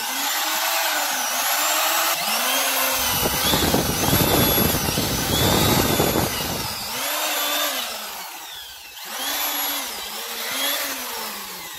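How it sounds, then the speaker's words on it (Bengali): An 800-watt electric drill machine powered from an IPS unit, whining loudly close up as it spins up and down in repeated cycles, with a rougher grinding burst in the middle. "এখন ড্রিল মেশিনটি চলবে।"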